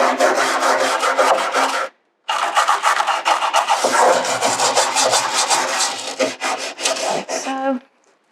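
Small metal and nylon brushes scrub the detailed areas of a furniture piece in loud, rapid back-and-forth strokes, close up, with one short pause before the scrubbing resumes and tapers off.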